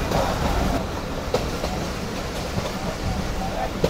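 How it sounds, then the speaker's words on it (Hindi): A Karakoram Express passenger train runs toward Badami Bagh, with a continuous rumble and rattle of coaches heard from inside, with faint clicks of wheels over joints and a voice talking over it. "तो ये बादामी बाग पर अप्रोच बना रही है इस वक्त ट्रेन हमारी"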